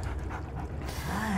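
A dog pants steadily and breathily in an audio drama, a close, continuous rasping rhythm with a faint whimper-like tone near the end, no talk over it.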